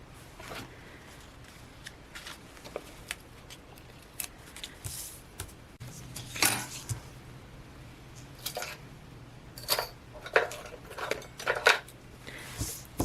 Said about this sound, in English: So I'm just going to go ahead and start sticking these on in their normal places.